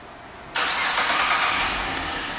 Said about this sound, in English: and the car turns right on.